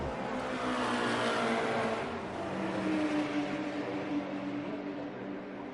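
Vintage sports race cars circle a track in a continuous whirring engine drone that holds steady and loud throughout, with no clear pass-bys and no voices.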